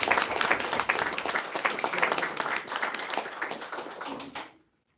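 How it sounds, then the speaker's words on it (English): Audience at a hospital district board meeting claps warmly, a lively patter of individual hand claps that holds steady, then stops abruptly just before the end. "Let's give her a warm round of applause."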